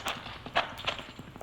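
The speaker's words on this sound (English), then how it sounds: "Horses, they're riding off." Horses riding off as a radio drama sound effect, a quick scattered clip-clop of hooves, fairly faint and a little distant, with no voices over it.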